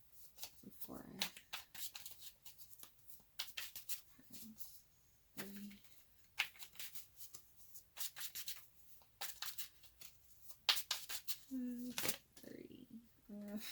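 Tarot cards being drawn and shuffled from a deck, soft repeated rustling and flicking bursts scattered throughout, with a person talking between them.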